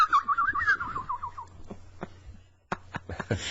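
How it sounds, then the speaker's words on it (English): Cartoon-style bird tweeting effect: a quick run of warbling chirps up front, then scattered sharp tweets and clicks, fairly loud and close over a low hum. "Those birds sound like they were attacking Suzanne Plachette."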